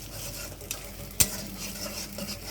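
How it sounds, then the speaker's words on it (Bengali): Onion and egg stirred together in a frying pan, a steady soft sizzle with scraping strokes and one sharp utensil knock near the middle. "তো এখানে পেঁয়াজ আর ডিমটাকে ভালো করে নেড়ে চেড়ে মিশিয়ে নিব দুটোটাকে একসাথে"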